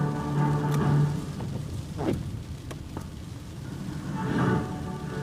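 Rain hisses steadily while rolls of thunder rumble through, swelling near the start, in the middle and again toward the end, in a Brazilian health ministry campaign about the Aedes aegypti mosquito.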